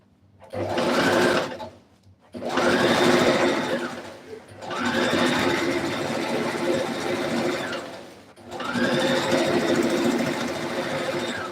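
A sewing machine stitches a dress in several long, steady motorized runs, its close, even whirring hum broken by short pauses between bursts.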